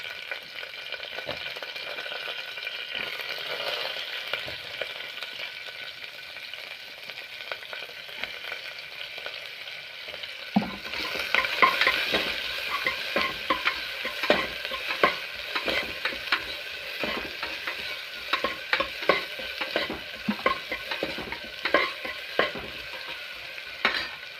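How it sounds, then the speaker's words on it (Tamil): Chopped onions go into a pan of frying cumin seeds, first a steady low sizzle, then louder crackling frying with repeated scraping and clinking of a spoon stirring, close and continuous with no talk. "நறுக்கி வச்ச வெங்காயத்தை போட்டுருவோம்."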